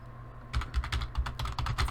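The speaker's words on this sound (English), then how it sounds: "we're gonna type in how to make" Quick, steady keystrokes on a computer keyboard, a close run of clicky taps after a brief quiet start.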